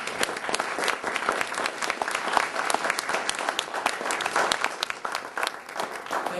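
An audience at a game development talk applauds warmly after the presentation, with dense, steady clapping from many hands that stays even and fairly close throughout.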